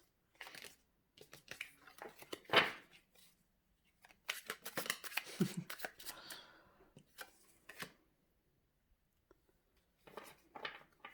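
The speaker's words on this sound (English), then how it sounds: "the cards keep flipping out" Tarot cards are shuffled in short, soft bursts of riffling and slapping, separated by quiet pauses, close and faint.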